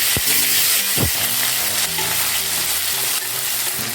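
Chopped large onion, mustard seeds and cumin crackle and fry loudly in oil, a dense close sizzle with a couple of brief knocks and stirs.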